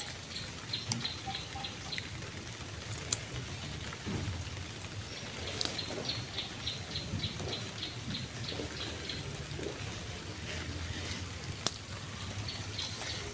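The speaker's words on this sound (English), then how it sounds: "It's raining." Steady rain falls on an urban garden in Kampala, Uganda, a soft continuous patter with scattered nearer drips and occasional sharper drops, faint and even throughout with no voices.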